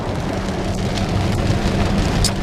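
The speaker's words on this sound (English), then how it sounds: "It is raining like crazy this morning." Heavy rain pours steadily on a morning, a dense continuous hiss of drops hitting surfaces, loud and unbroken throughout with no voices.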